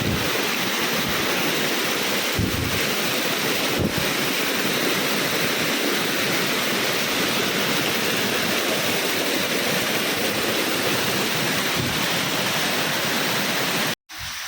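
Water pours down the rain-soaked trail leading up to Korigad fort in the monsoon, a loud, unbroken roaring rush close by that lasts nearly the whole time with only a brief dropout at the end.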